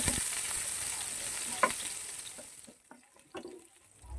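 Garlic, then onion, sauté in oil with a hissing sizzle that fades over a few seconds, broken by light stirring taps and scrapes nearby, with no speech.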